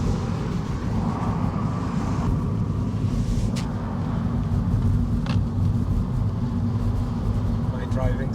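Car driving along a road near the Giant's Causeway, a steady close engine and tyre rumble running the whole time, with people talking over it inside the cabin.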